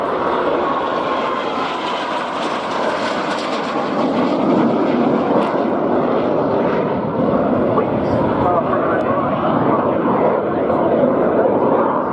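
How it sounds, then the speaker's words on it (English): An ex-Royal Saudi Air Force BAC Strikemaster jet runs in at the RNAS Yeovilton air day, its engine a loud, sustained roar that swells slightly as it approaches, with a voice talking over it. "which is the one that's now going to be running in from the right, is ex-Royal Saudi Air Force Strike Master"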